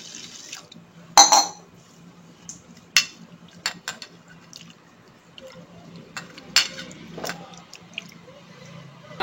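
Coarsely ground rice being washed by hand in a vessel of water, with a few sharp splashy swishes and drips standing out over a quiet background.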